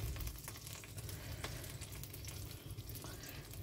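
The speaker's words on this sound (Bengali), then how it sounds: "মাছ ভাজা হচ্ছে, দিয়ে দেবো আর একটু অলিভ অয়েল" Fish frying in olive oil in a home kitchen, a faint, continuous sizzle and crackle with occasional small pops and no voices.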